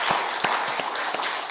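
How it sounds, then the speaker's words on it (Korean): A church congregation at a Korean Sunday afternoon service claps together in a steady rhythm. The even beats are moderately quiet and blend into the room's wash of sound. "우리 박수로 함께 영광 돌리겠습니다."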